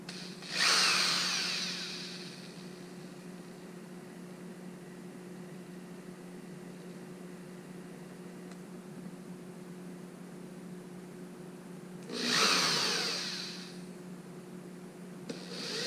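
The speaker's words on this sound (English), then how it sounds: "get a 6 step drill, set it to 9/16, which is this one here." Two short bursts of a high whining power drill with a step drill bit cutting a 9/16 hole in a 2018+ Honda Goldwing trunk cut through a steady low electric hum, one at the start and one near the end.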